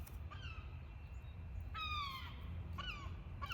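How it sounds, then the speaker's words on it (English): A seagull near an ocean-side garden gives three harsh, descending calls in quick bursts, loud and fairly close over a low background rumble. "That happens to be a seagull."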